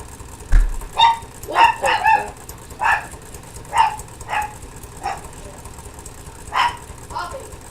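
A pet dog barks repeatedly at neighborhood kids outside, a string of sharp barks spaced about every half second to a second, moderately loud against a low background hum.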